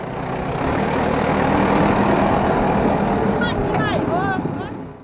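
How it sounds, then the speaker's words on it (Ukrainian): A tractor engine idles steadily at a site where a building foundation is being demolished, a continuous low rumble that stays loud throughout. Faint birdsong chirps through it near the end. "Трактор поїхав, зараз приїде інакший трактор"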